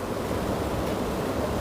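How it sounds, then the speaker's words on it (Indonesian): Steady, even rush of outdoor wind, a gentle breeze blowing continuously with a soft broadband hiss and low rumble, no voices. "Saat ini angin sepoi-sepoi ini adalah"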